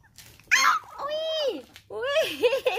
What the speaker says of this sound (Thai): อุ้ยถุงทองหอนเป็นด้วย